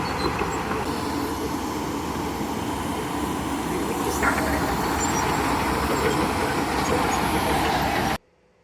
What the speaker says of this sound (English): the little yellow Wally here is gonna pick up these trailers and haul our houses up there